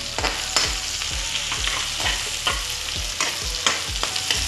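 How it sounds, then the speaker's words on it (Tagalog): Onion, ginger and garlic sautéing in a pan, a continuous close sizzle broken by regular scraping stirs of a utensil, with no voices. "Hintay lang natin siyang maluto ng konti, yung ating sibuyas, luya, at bawang"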